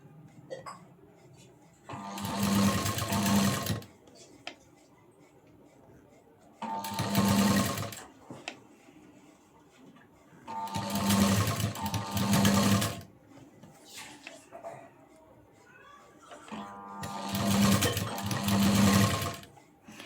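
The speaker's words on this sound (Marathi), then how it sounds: "अगदी खाचेमध्ये आपल्याला ती शिलाई घ्यायची" A sewing machine stitches piping onto a blouse neck in four separate bursts, each a loud close whir lasting a second or two. Quiet gaps fall between the bursts, and someone talks faintly in the background.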